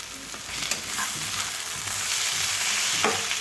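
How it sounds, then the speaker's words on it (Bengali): Tomato frying with onion in a pan sizzles steadily and close by, with stirring scrapes running through the short stretch and no talk. "আমি এখন এখানে টমেটোটা দিয়ে দিচ্ছি"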